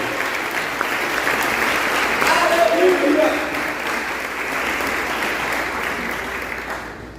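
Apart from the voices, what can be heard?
church congregation applauding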